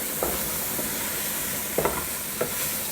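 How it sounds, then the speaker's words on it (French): Sausages and onion frying in a pot over high heat, a steady close sizzle with a few brief stirring scrapes standing out, no voices. "À feu vif, je vais revenir un petit peu les saucisses."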